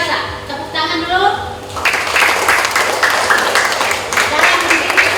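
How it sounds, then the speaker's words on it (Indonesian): At the Santa Ursula elementary school graduation and farewell ceremony in Manokwari, a voice speaks briefly before the crowd breaks into loud, dense applause that holds steady to the end. "Tepuk tangan dulu."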